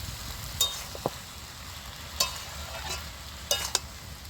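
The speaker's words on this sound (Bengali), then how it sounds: "তো ঢাকনাটা খুলে আমি আবার একটু নেড়ে ছেড়ে দিচ্ছি।" Pumpkin curry with fish head being stirred in a pot, a few sparse spoon scrapes and knocks against the vessel, separated by quiet pauses under a low background hum.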